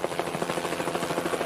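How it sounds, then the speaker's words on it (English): A cartoon helicopter flying close by, its rotor giving a steady rapid chopping throb that stays loud and even through the whole moment, with no voices over it. "This was no time for a chat with a helicopter."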